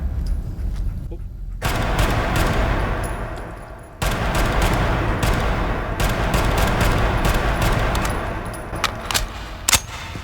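A modded M19 gun firing in Fallout 4, loud sustained bursts of rapid automatic fire with dense rumbling explosions, broken by two abrupt cuts before resuming, with clanking metallic hits near the end.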